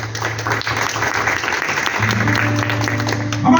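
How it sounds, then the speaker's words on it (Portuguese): A church congregation applauding after a Bible reading in a Portuguese-language service, a loud continuous wash of clapping over a sustained low musical tone, with organ or keyboard notes entering near the end. "Que você possa aplaudir a santa e poderosa palavra."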